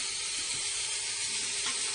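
Canned peeled plum tomatoes hit a hot pan of dal with a continuous loud steamy hiss and sizzle that holds steady from start to finish.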